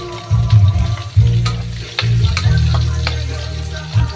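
Garlic sizzling and frying in a pan while cooking Filipino pinakbet, a steady close crackle with low rumbling stirring bursts and a few sharp clinks of a utensil against the pan, no voices.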